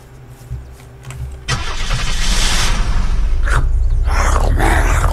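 A car engine in the game Unturned cranks and catches, then settles into a loud, steady roaring idle with a couple of revs, close and alone.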